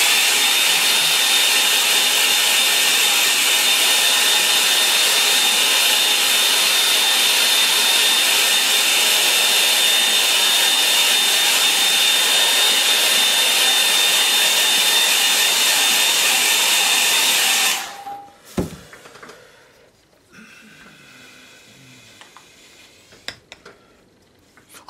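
A hair dryer blows steadily on a freshly painted watercolour autumn landscape sky, a loud continuous whooshing hum that cuts off abruptly near the end, leaving quiet rustles and a few soft knocks.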